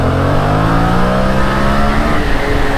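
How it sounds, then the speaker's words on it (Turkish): A Yamaha MT-07 motorcycle engine revs hard as the front wheel lifts into a small wheelie, a loud, steady mid-pitched roar with climbing harmonics that runs without a break for about three seconds. "Mesela şu an teker yaptım yanlışlıkla."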